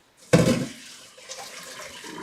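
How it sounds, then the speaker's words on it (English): Water rushing out of a stainless steel colander into a kitchen sink, a loud splashing burst at the start that settles into a steady trickling drain, heard alone. "and let the water drain."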